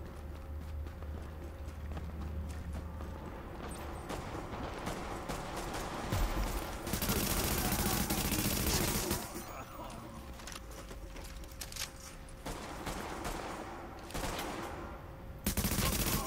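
Gunfire rattles across a supply drop in the video game The Division, with bursts of shots layered over constant background game noise and louder stretches of firing that come and go throughout.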